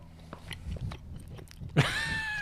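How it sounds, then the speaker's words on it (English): Close-miked chewing of powdered lion's mane: soft, irregular bites and mouth sounds near the microphone, ending in a brief louder smack, with no speech. "everyone gets to listen to you chew."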